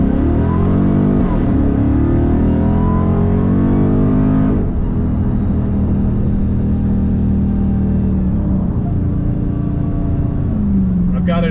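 A 2022 Dodge with an AWE Track Edition exhaust, valves deleted and set in sport mode, accelerates with a loud, steady engine drone whose pitch climbs and then settles as it pulls.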